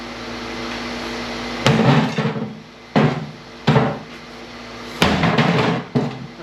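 A big hammer strikes scrap metal in heavy, loud, close blows, about five separate impacts spaced a second or so apart, each ringing briefly before fading, with no talking.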